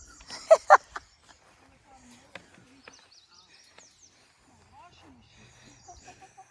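A few sharp clucks come from fowl close by near the start, then only faint scattered rustles and quiet movement follow.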